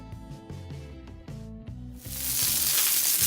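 Cauliflower fries on a tawa over a low flame, with a soft sizzle under background music that swells into a bright, hissing wash near the end.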